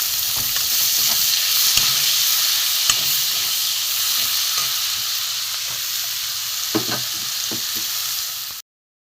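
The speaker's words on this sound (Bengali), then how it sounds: "রসুনটা একটু ভেজে নেব পেঁয়াজ কুচি দিয়ে দেবো" Chopped garlic and onion frying in a pan for a prawn and taro-leaf curry, a steady close sizzle with occasional sharp clinks and scrapes of stirring, no voices.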